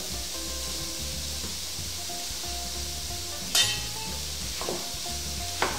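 Courgette and onion sauté in a wok with a soft, steady sizzle, while a utensil stirs and scrapes the vegetables in a few sharp, close strokes.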